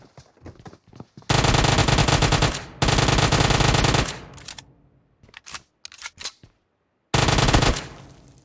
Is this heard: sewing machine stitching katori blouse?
no